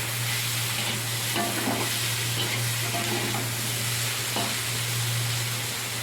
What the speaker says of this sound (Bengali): ঢ্যাঁড়সটা দিয়ে মিক্স করে নিলাম